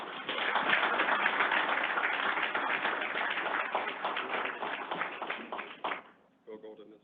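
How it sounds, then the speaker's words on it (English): A crowd at an Iowa DOT employee recognition ceremony applauds continuously in a dense, sustained clatter for about six seconds before it tapers off and a voice begins. "Let's give them another round of applause"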